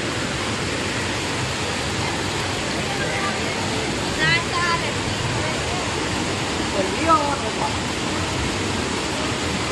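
A river rushes steadily and loudly outdoors, a constant broadband roar of flowing water filling the whole stretch, with faint voices occasionally audible beneath it.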